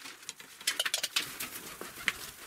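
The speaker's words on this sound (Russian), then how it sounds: "Голубь залетел." A pigeon flying in indoors, with a quick burst of flapping wing beats and fluttering pats close by, followed by scattered softer flutters and a single sharp sound.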